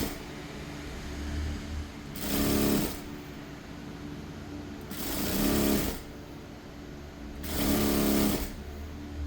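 A sewing machine stitches a folded fabric piece onto the back of a lined blouse in three short, steady bursts of rapid whirring, separated by pauses of lower room noise.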